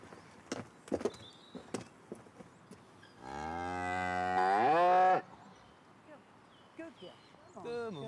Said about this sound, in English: We'll get up and milk this cow.